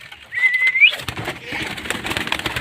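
Caged pigeons taking off in hot weather give a short whistled call, followed by a steady wash of rustling and fluttering wings at close range.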